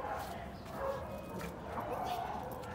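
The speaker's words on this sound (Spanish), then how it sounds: "Ya miró un perrito y le está ladrando" A small dog barks in short yappy bursts at moderate distance, with voices talking over it throughout.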